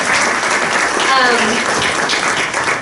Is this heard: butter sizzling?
no